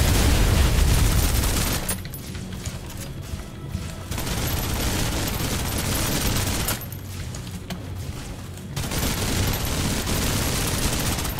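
Sustained automatic gunfire from the Snowbreak video game crackles in dense bursts, with loud rapid volleys broken by two short lulls and heavy booming impacts. No voices are present.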